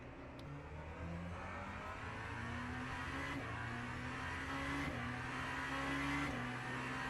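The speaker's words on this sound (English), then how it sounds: "Kind of sounds like a Porsche GTP." Porsche GTP race car engine in a sim racing game, a steady sustained drone with shifting pitch throughout, no talking.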